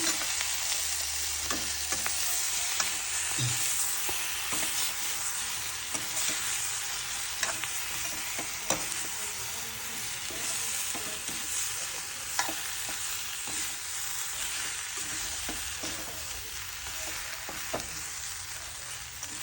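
Chicken bhutan with ginger, garlic and cumin paste sizzles steadily in a pan while a utensil stirs and scrapes it with repeated sharp clicks, close and continuous throughout.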